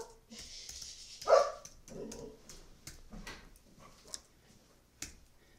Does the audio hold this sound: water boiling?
no